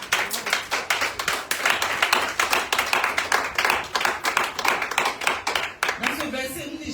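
A church congregation claps together to acclaim the Lord during a prayer sermon, steady rhythmic handclaps close and continuous for several seconds, with voices mixed in before the clapping fades.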